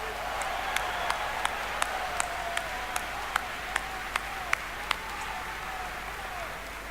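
BlizzCon 2011 opening ceremony audience applauding steadily in a large hall, a broad sustained wash of clapping with sharp periodic clicks on top.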